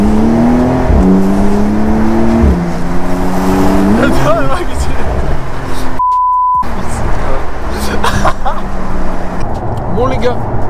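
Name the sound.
Porsche 992 Carrera 4S launch control acceleration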